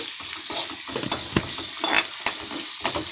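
Spice masala sizzles and fries in a pan while being stirred, steady hiss broken by repeated scraping strokes of a spoon, close and moderately loud.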